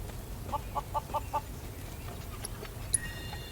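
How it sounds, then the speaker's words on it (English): Chickens in the video game Final Fantasy VII Rebirth give a quick series of five soft clucks, followed by faint scattered chirps and a brief chime, over a quiet ambient background. "I can't keep up with a flock of chickens."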